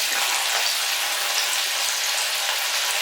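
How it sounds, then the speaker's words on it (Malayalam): Anchovies fry in very hot oil with a dense, constant, loud sizzling hiss that holds steady throughout, with no voices. "അത്യാവശ്യം നന്നായിട്ട് വറുത്തെടുക്കണം"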